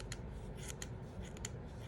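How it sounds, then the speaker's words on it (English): Scissors snipping excess wool from the edges of a needle-felted flower dryer ball, a quick series of small, close, crisp cuts at an uneven rhythm over low room noise. "I like to take my scissors and I just kind of snip around the edges"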